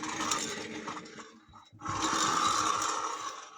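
A VAZ 2105 wheel rubs while the car is driving, giving a continuous scraping, whirring mechanical noise that dips briefly and then returns louder, close to the microphone.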